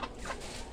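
A fighting rooster being handled for an injection gives a brief, quiet cluck in a split-second burst.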